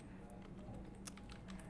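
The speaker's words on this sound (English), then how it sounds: "the reason I am typing all these things in front of you" Computer keyboard typing during an SEO lesson on off-page optimization, with scattered quick key clicks of uneven rhythm, fairly faint and close over a steady low room hum.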